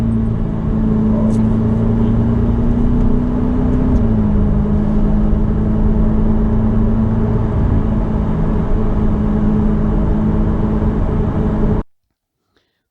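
A Ferrari F8 Spider, driven at speed, holds a loud steady engine drone that rises slightly in pitch partway through before cutting off abruptly near the end, with no voices.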